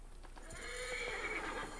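A horse whinnies once in Assassin's Creed Origins, a drawn-out neigh that rises and falls, fairly close, with faint hoof sounds underneath.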